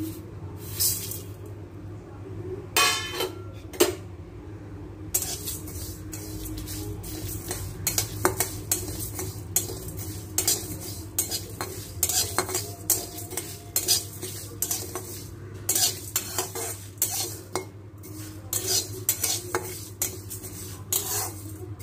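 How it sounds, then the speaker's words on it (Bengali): Cardamom, panch phoron, fennel, dried red chillies and coriander dry-fry in a hot kadai for mango chutney, with a faint sizzle under repeated clinks and scrapes of a metal spatula stirring against the pan, irregular and close. "এলাচি, পাঁচফোড়ন আর মৌরি, সবটা ভেজে নেব। কড়াই গরম হয়ে গেছে"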